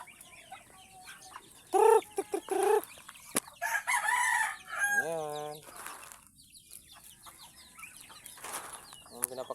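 Chickens, with ducks nearby, on a small farm. Loud close clucks and squawks come in bursts, and a rooster crows once, over a quiet outdoor background with faint voices.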